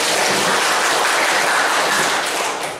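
Loud, dense audience applause at a village gathering, a thick wash of many hands clapping close by, holding steady before tapering off at the end.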